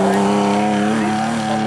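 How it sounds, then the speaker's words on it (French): A Porsche race car at a historic hill climb, its engine a loud sustained droning roar with a steady pitch, heard close for the whole stretch. "Encore une Porsche à suivre, course de côte."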